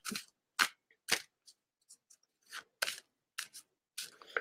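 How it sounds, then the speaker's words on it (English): Short crisp riffling and snapping bursts of cards being shuffled, close and quiet, in irregular quick clusters with silent gaps between. "a deck of cards where you shuffle them up"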